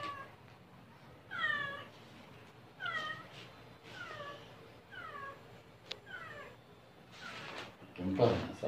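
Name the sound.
cats meowing in a pet shop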